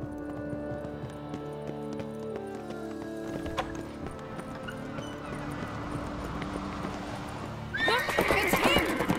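Horse neighing and whinnying with clip-clop hooves in The Witcher 3 video game, layered over a steady music bed, with a louder burst of whinnying and hoofbeats near the end.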